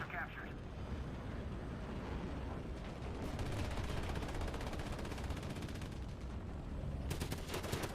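Dense gunfire and explosive cannon bursts from a tank battle video game featuring an AMX-50, rattling continuously and loudly throughout, with a voice talking over the combat.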